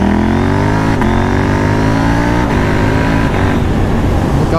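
A KTM 890 Duke R motorcycle with non-stock modifications revs up through several gear changes while riding, its pitch climbing then dropping with each shift, loud and close throughout.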